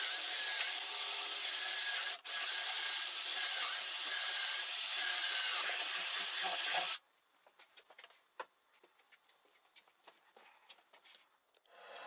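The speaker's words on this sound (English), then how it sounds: "I've made a mark in the center where I'm going to drill a hole about 3/8 of an inch in diameter" A drill press whines steadily for about seven seconds with a brief pause while drilling a 3/8-inch hole in wood, then stops, leaving faint scattered clicks and rustles.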